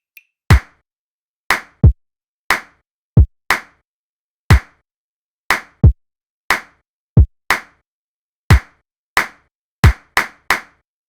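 Hands clapping the syncopated horn rhythm from the Ghostbusters theme, about fifteen sharp, close claps in an uneven pattern against silence.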